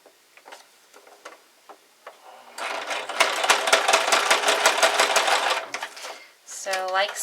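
A sewing machine runs a zigzag stitch, a fast, steady mechanical chatter for several seconds, preceded by soft handling clicks and followed by a brief whir as it stops.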